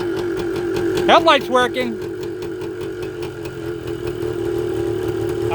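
A 1980 Suzuki TS125 motorcycle idles steadily at close range after a kick start, with a low, even engine hum. Someone talks over it briefly early on.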